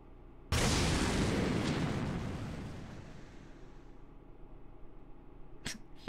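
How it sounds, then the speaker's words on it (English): Cannon fire in the visual novel game Hakuoki: Kyoto Winds, heard as a sudden loud explosive blast whose roar decays slowly over several seconds, followed near the end by a couple of sharper, fainter bursts. "the cannon fire became more bombastic in the background"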